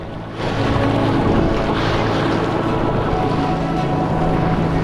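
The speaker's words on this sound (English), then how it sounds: "waves break over the flat slabs to collide and rebound off the cliff" Continuous roar of sea waves breaking over flat rock slabs and rebounding off a cliff at Cape Wrath, Scotland, at lower tide, a loud, steady wash heard from close by with wind noise.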